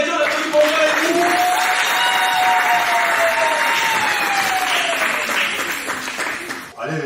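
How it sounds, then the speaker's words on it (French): A church congregation at a Sunday school day celebration breaks into sustained, dense applause from a crowd, with a voice ringing out over the clapping until it fades near the end. "on l'applaudit pour le frère Eddy"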